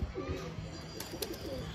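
Soft pigeon cooing in low, repeated bursts amid a busy outdoor background with faint rustling and distant noise.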